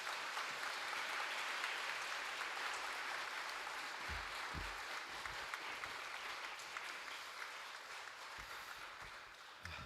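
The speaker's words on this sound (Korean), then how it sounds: "우리 박수로 강단에 초청하겠습니다" A church congregation claps steadily for several seconds to welcome the preacher to the pulpit, a soft, even wash of applause heard from a distance with a few low thumps underneath.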